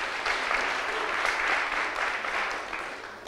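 Audience applause fills the room at the close of an art symposium round table, a steady moderate wash of many hands clapping at some distance.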